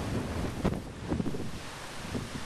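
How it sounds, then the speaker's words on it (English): Gusty wind rumbles against the microphone beside the BNSF Panhandle railway at Curtis Hill, swelling in a few bursts over a low, constant background roar. "it's extremely windy"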